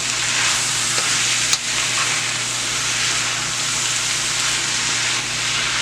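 Saltfish, peppers and tomatoes frying in a pan as they are stirred, a loud steady sizzle close up with occasional scraping of the spoon and no talking.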